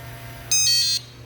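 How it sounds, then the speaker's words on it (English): A single short electronic beep, about half a second long, from the keyless entry lock unlocking on the garage door of a 2019 Keystone Fuzion 419 toy hauler, sounds close by over a faint background hum. "We hear it unlock and beep."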